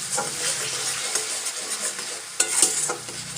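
A spiced fish mixture for Bengali doi dhela is stirred in a pan, with a continuous close sizzle and soft scraping of the spatula, plus a few sharper knocks near the end.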